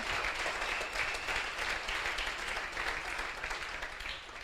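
Audience applause fills an indoor club at a racquetball championship final, a steady broadband wash of many hands clapping at moderate distance, continuous for several seconds and tapering slightly at the end with no voices.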